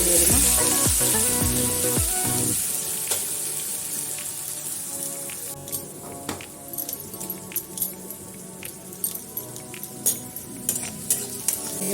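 Small potatoes fry in hot oil for an Odisha-style curry, with loud sizzling at the start that fades into a softer crackle, then a series of sharp metallic stirring scrapes and clinks toward the end.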